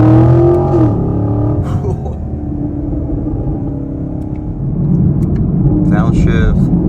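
A Chevy Camaro LT1 downshifting and accelerating, with a deep engine rumble and drone rising and settling from inside the cabin under steady road noise, while someone talks over it at first.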